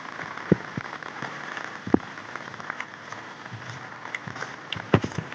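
Steady rain falls outdoors on a monsoon street where water has pooled, making a dense, even patter with a few sharper drops standing out near the listener; no one speaks.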